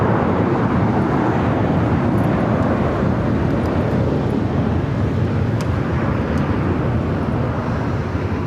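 Air Tahiti Nui Boeing 777-300ER jet arriving on the south side at LAX from London Heathrow, a steady broad roar holding loud and even throughout with wind rumble, no voices.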